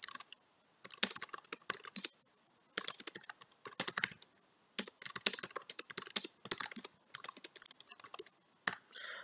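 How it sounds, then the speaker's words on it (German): Rapid bursts of typing on a laptop keyboard with roughly 2 mm key travel, close and crisp clicking in quick runs separated by short pauses, with no voices. "Ich versuche mal schnell zu tippen."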